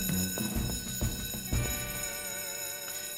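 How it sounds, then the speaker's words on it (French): A fire alarm rings in an animated firefighter cartoon, a sustained electronic tone running under a few heavy thuds and clatters, with no talking. "Pourquoi l'alarme sonne-t-elle toujours quand on est occupé à faire autre chose?"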